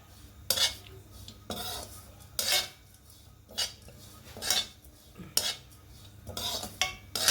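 Grated coconut dry-roasts in a pan with no oil while a metal spatula scrapes and clatters against the pan in repeated strokes about a second apart. There is barely any sizzle and no talk.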